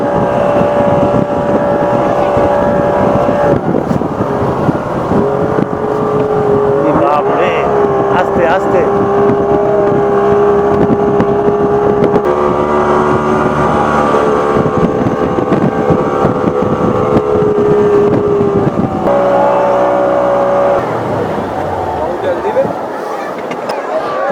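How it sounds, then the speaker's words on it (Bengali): Speedboat ride on the sea at Digha, with a steady droning engine and strong wind buffeting throughout, loud and close, while people talk over it. "এই স্পিড বোর্ডে চাপার মজাই কিন্তু আলাদা"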